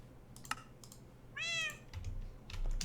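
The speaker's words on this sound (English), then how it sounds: "Yes, I know there's a cat in there." A cat meows in a Modern Skyblock Minecraft crafting scene, one short meow followed by a longer rising-falling meow, with light keyboard and mouse clicking around it and no talking.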